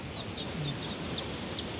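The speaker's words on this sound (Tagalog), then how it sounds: "Nag-iyakan na mga manok." Faint chicken clucks and peeps rise over a steady background hiss after a typhoon in Saipan, several small birds calling softly at a distance.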